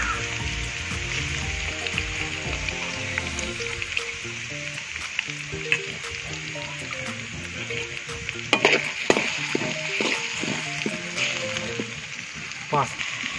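Garlic and crushed ginger frying in hot oil in a pan, a steady close sizzle with occasional stirring scrapes and clinks, while a voice talks over it.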